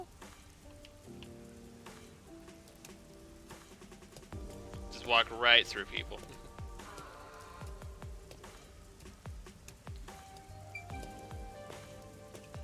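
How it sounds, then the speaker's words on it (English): Steady rain falls in the video game Master Detective Archives: Rain Code, a soft continuous patter running throughout, with a brief louder splash or effect near the middle and a person talking over it. "isn't it weird how it's not flooded, given how it's always raining here?"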